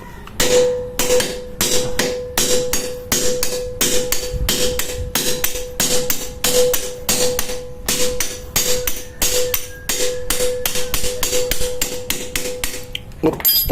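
Rapid, steady metal hammer blows ring out continuously while hammering out a motorcycle swing arm bushing, sharp clanging strikes with a faint ringing tone, close and loud.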